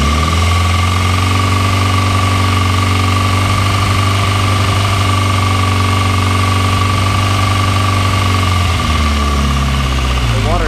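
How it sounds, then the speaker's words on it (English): A 2003–2004 Kawasaki ZX6R 636 motorcycle engine idling up in a garage, a loud steady mechanical drone with a constant whine, then a drop in pitch near the end. "So what you'll notice though is if we idle up, the temperature will go down."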